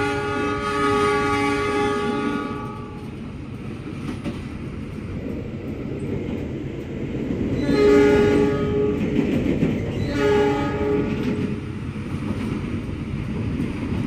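The Argo Bromo Anggrek executive train rushes straight through Randu Blatung station with a steady rumble of wheels, its horn sounding several times in long harmonic blasts.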